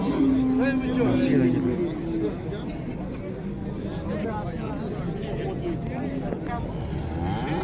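A cow moos loudly and close at the Rishton livestock market, a long drawn-out low call, amid a busy background of crowd chatter and other animal sounds, with people talking nearby.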